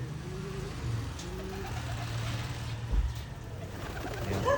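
Racing pigeons coo softly nearby in low, repeated throaty phrases, with faint traffic rumble in the background.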